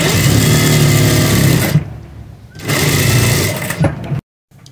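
Sewing machine stitching the center seam of a kurti neckline, a loud close mechanical whir running for nearly two seconds, pausing briefly, then a second burst before stopping.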